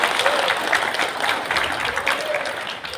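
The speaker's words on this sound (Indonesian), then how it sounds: "Aplaus untuk Bapak-bapak berdua." Applause from the audience at an annual cooperative members' meeting in Cilegon, a dense steady clatter of clapping hands in a hall, fairly loud, lasting the whole stretch.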